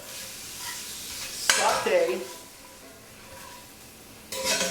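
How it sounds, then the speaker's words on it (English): Pork fat sautéing with about a teaspoon of olive oil in pots for carne guisada, a soft steady sizzle with stirring scrapes and louder bursts of spattering partway through and again at the end, no talk. "saute the fat and keep the oils for the flavor."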